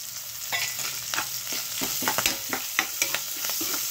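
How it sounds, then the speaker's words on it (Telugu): Green chillies and turmeric fry in a pan for a potato curry with lemon juice, a steady close sizzle broken by frequent sharp scrapes and taps of stirring. "పసుపు వేసేసుకుని ఒక్క నిమిషం ఇలా వేగిపోతే"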